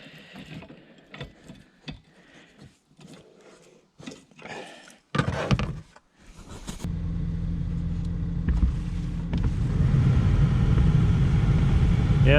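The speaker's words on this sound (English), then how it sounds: "listen to that heater purr. No vibration whatsoever." A 2013 Ford Escape, once troubled by heater fan noise from a rodent nest, starts up and settles into a steady idle with the heater fan running, a smooth even hum that grows louder after scattered handling clicks.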